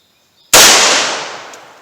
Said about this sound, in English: I'm going to test the velocity and accuracy of the Remington HTP out of the 4-inch barrel